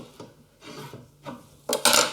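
Hand plane smoothing a wooden wine caddy, a few short scraping strokes taking shavings, close up, uneven and growing louder toward the end.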